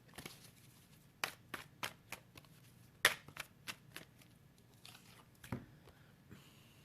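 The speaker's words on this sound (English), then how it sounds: "I can't take every card. So I'm just going to shuffle again" A deck of tarot cards being shuffled, with soft riffles, flicks and snaps landing in irregular bursts, close and quiet, with no talking.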